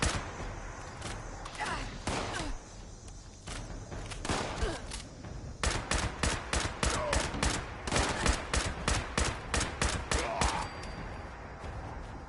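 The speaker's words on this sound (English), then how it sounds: "Who's shooting and who's shooting from where?" Rapid bursts of gunfire in Fallout 76, some single shots and some clustered volleys, loud and close, repeating irregularly and then in a steadier rhythm toward the end.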